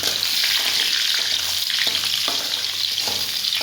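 Raisins and cashews frying in oil until browned for a plain pulao, a dense, continuous bright sizzle with occasional stirring scrapes, close and fairly loud with no talking.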